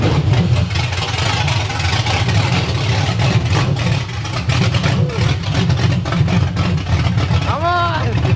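A V8-swapped BMW E36 engine idles in a garage, a steady low rumble running throughout, with loud talk over it and a brief rising whine near the end.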